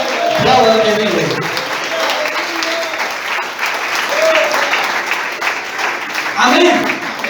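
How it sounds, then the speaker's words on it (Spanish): A church congregation applauding during a Spanish-language sermon, sustained clapping under a preacher's loud amplified voice, with swells of crowd sound rising near the start and again toward the end. "Aplauda al que vive."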